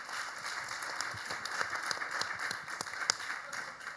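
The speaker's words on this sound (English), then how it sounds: "Let's just give these guys a big round of applause." Audience clapping after a panel discussion at a conference on city data and sustainability, a modest, fairly quiet patter of individual claps rather than a full roar.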